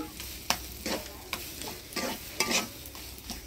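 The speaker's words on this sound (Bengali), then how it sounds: "এবারে এক থালি লেবুর রস দিয়ে নাড়াচাড়া করে নেব" Taro leaves with lemon juice are stirred in a pan, with dense, rhythmic scraping and slapping of a spoon through the wet greens over a constant close sizzle and no speech.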